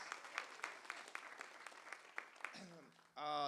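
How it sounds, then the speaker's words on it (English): Audience clapping for students at a high school track awards ceremony, a scattered, moderately quiet round of applause that thins out, then a voice begins speaking at the end. "Let's give these young people a round of applause."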